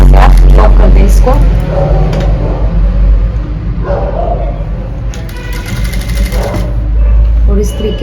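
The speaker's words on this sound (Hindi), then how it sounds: "इसको सीधा रखना है, कुर्ती को सीधे पे सिलाई लगाएंगे।" Sewing machine stitching a kurti coat collar, a steady mechanical whirr running throughout with someone talking over it.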